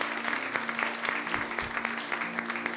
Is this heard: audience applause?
yes